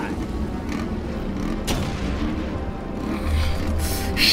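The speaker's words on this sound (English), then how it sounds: "I gotta watch when I'm shooting." Gunfire in the Terminator Salvation video game on Xbox 360, a dense, steady rumble of shots and booms at close range, continuous throughout under a noisy battle mix.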